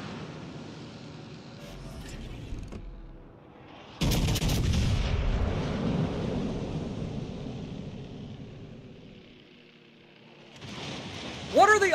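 Naval gunfire from the cruiser Des Moines in the World of Warships Legends video game: deep booming shell blasts and rumbling impacts, loud and sustained, building and fading over several seconds, with game effects and no voice.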